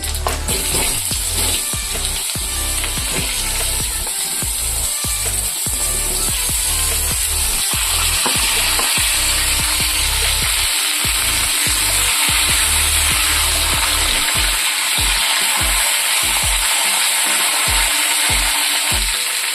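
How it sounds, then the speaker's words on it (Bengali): Potato and papaya pieces hit hot oil seasoned with whole cumin, sizzling loudly and steadily throughout, with occasional stirring knocks and scrapes in the pan. "আগে থেকে কেটে রাখা আলু পেঁপের টুকরোগুলো দেবো।"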